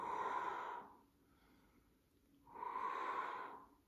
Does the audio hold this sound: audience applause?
no